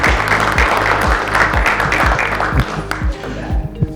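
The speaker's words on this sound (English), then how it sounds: "so I'd like a round of applause for that" A Chamber of Commerce meeting audience applauds a returning member with a fairly loud, continuous patter of clapping, while a low rhythmic sound pulses underneath for the whole four seconds.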